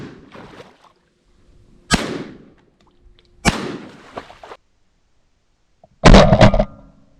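Shotgun blasts at flying ducks during a South Dakota waterfowl hunt: three sharp, loud reports spaced out over several seconds, each trailing off in an outdoor echo, with quiet field ambience between them and no talking.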